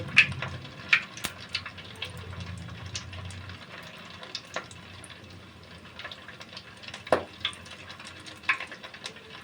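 Chicken pieces fry in oil that is not yet very hot, giving a faint, soft sizzle broken by scattered small pops and light clinks, with no one talking.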